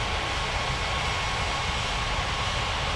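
Steady, loud broadband roar of an Emirates Boeing 777-300ER's jet engines at Las Palmas airport, a continuous airport engine rumble with no breaks.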